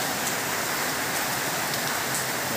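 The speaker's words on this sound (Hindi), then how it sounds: "बहुत अच्छी बारिश है।" Dense, steady rainfall hisses continuously and loudly, a heavy downpour with no voices.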